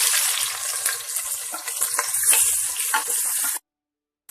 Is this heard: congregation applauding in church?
no